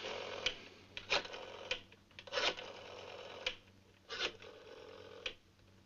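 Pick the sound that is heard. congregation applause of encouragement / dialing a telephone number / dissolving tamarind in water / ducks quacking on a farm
dialing a telephone number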